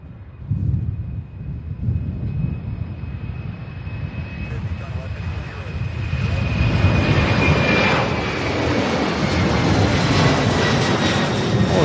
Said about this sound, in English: we have a Delta flight that's getting ready to land on 35 right as well